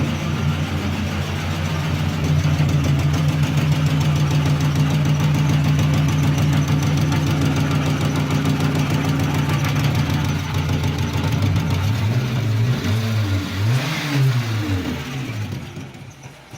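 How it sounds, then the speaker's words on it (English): A Volkswagen Jetta Mk2 engine idling roughly and unevenly, with a steady low rumble that wavers and surges near the end before easing off. "The engine is not running as you hear."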